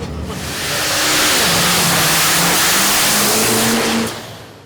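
A dirt drag race truck with a bored and stroked alcohol-burning big block 454 of 500 cubic inches revs hard, building to a loud, sustained roar before cutting off near the end.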